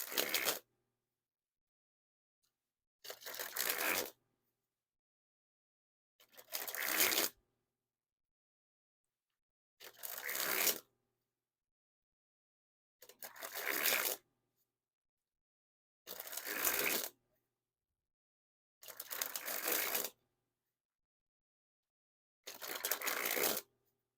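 Ellusionist Red King Slayer playing cards sprung from hand to hand, eight separate crisp riffling bursts about three seconds apart, close and clear against silence.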